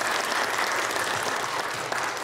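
Church congregation applauding during a Sunday worship service, a dense, steady wash of clapping hands that fills the hall evenly for a couple of seconds without a break.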